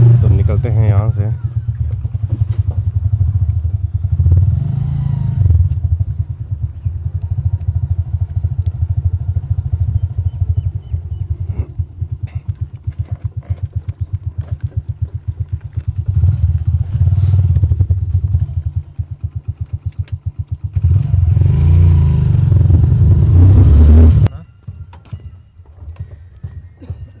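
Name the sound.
motorcycle riding after cold start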